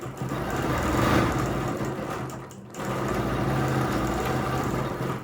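A sewing machine running a steady quilting line, its motor whirring continuously at an even pace, easing off for a moment partway through before resuming the stitch.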